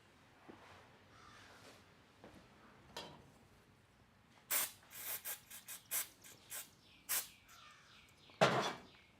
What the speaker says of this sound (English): Gonna use a little electric cleaner.